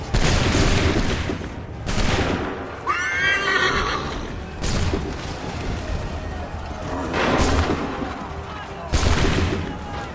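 Cannons boom in a battle scene in Assassin's Creed 3 Remastered, with several heavy blasts at intervals and a horse whinnying between them amid a loud, busy din.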